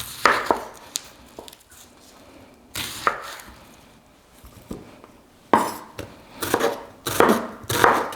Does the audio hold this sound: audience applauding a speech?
no